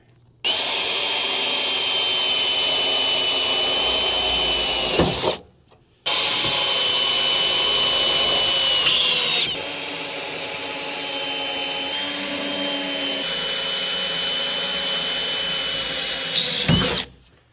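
A power drill drilling into a truck bed runs loud and close in long continuous stretches, pausing briefly once, its motor whine shifting pitch as it bites into the metal.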